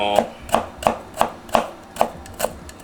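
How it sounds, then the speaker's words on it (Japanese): A kitchen knife chops fresh ginger on a cutting board for a Chinese pepper steak, eight crisp evenly spaced thuds close up at a steady rhythm, with no talking. "中華料理の生姜はね、このように切って"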